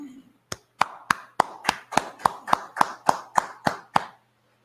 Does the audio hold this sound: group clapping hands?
yes